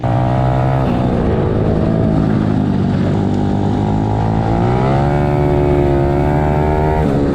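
A racing motorcycle on a track drones loud and steady, its engine pitch dipping and rising through gear changes as it passes close throughout.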